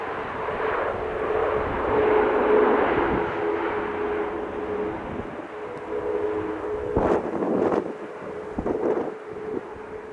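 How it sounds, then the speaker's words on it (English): An Airbus A330 jet at the Farnborough Air Show brakes hard on landing without reverse thrust, a broad engine roar with a steady tone, buffeted by heavy wind gusts on the microphone. "This Airbus A330 braking as hard as possible without reverse thrust"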